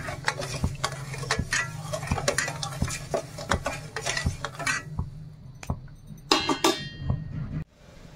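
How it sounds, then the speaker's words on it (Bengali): A spoon scrapes and knocks rhythmically against a pan while sugar syrup is stirred, the repeated clinks close and fairly quiet, ending in a brief pause and a few final taps. "এবার আমি চিনিটা দিয়ে চিনির শিরা বানিয়ে নিচ্ছি।"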